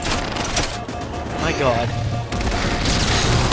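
Rapid gunfire from Halo 4 campaign play rattles in dense, continuous bursts throughout, with a whooshing sweep midway and a voice exclaiming briefly over the shooting.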